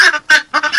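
Loud, grating guinea fowl cries in a Ukrainian village repeat rapidly up close, several scratchy squawks coming in choppy bursts with brief gaps between.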